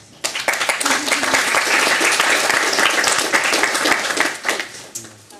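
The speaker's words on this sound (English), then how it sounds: "Welcome, and with some applause." Audience applause welcoming Professor Regina Birner to give a lecture on risk and uncertainty; many hands clap steadily and fairly loudly for about five seconds, then the clapping thins out and fades.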